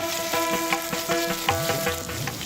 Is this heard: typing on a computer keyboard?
no